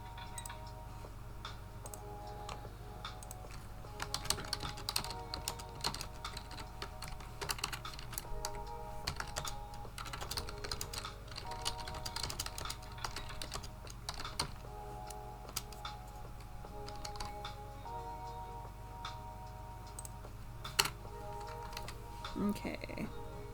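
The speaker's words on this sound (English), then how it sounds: "the keyboard was working now" Typing on a computer keyboard at a work desk, a steady patter of key clicks running throughout over a low background hum, with occasional louder keystrokes standing out.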